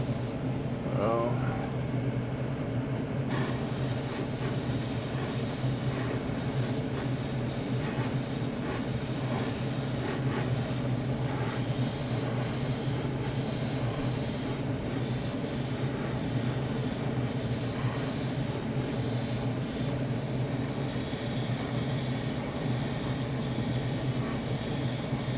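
A spray gun applies primer to a 1970 Ford in a steady, close hiss that runs unbroken throughout, with someone talking over it.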